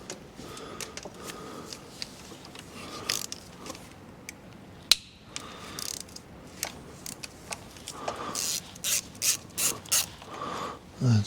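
Close ratchet clicking in repeated short bursts as bolts are loosened on the M156 intake manifold of a Mercedes ML63 with a limp-mode fault, louder sharp bursts toward the end.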